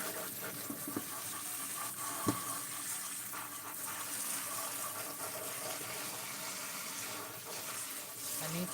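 Hot water runs from a tap in a steady, soft, close hiss with faint splashing while a used doll is cleaned, no voices over it.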